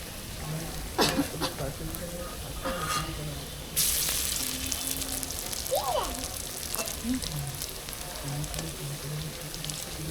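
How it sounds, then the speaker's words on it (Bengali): Prawn and pumpkin pakoras frying on a wood stove, a constant soft sizzle with occasional turning clatter, while people talk nearby over the frying. "উল্টে পাল্টে সব পাকোড়াগুলো ভেজে নিচ্ছি"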